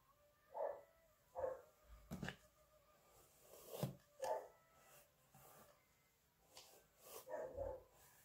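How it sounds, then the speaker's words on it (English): A dog barks intermittently in the distance, faint single barks spaced a second or two apart, with some soft knocks in a quiet room. "Can you hear my crazy dog barking in the background?"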